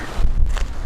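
Steady wind buffeting the microphone, a low rumbling roar that gusts throughout with no other clear sounds.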